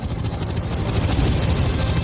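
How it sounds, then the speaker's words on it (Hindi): Helicopters flying overhead near the pyramids in Egypt, a continuous low rotor drone with rapid throbbing, steady and fairly loud with no talking. "जाही, क्या तुम्हें हेलीकॉप्टर्स की आवाज आ रही है?"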